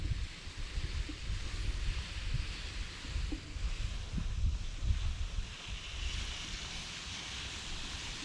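Wind blows outdoors on a homestead in late fall, a steady low rumble of gusts buffeting the microphone with broadband rushing noise, continuous and fairly loud, with no talk over it.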